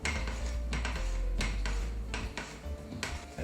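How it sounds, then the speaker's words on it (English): Flour folded into lemon cake batter in a bowl with an envelope-style motion, giving soft repeated scrapes and taps of utensil on bowl in an irregular rhythm, close and quiet, with no voices. "using these envelope type of action here to be able to incorporate the flour into our mix"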